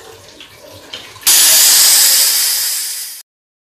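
A pressure cooker of jackfruit curry releases a sudden loud, steady hiss of steam for about two seconds, cutting off abruptly after quieter kitchen sounds.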